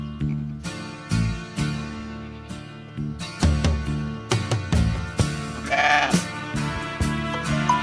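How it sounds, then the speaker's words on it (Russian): A young breeding ram bought in the village of Maniska bleats repeatedly in short bursts over a steady background, loud and close, with no talking. "Баранчик на племя."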